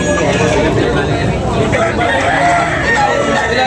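A rooster crows near at hand amid clucking fowl and a busy background of chatter at a chicken sale.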